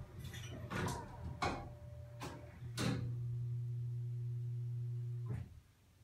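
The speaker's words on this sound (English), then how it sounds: "you can hear that humming of the bell" A steady low hum from an Otis hydraulic elevator's bell sets in and sustains for several seconds, broken by a few sharp metallic clunks and a faint ringing tone before fading out.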